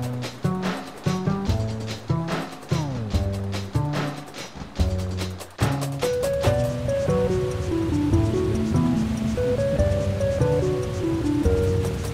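A roaring waterfall in the video game Sword & Sworcery EP sends up a steady rushing wash beneath prominent quirky retro-style electronic music, which carries plucked and melodic notes throughout.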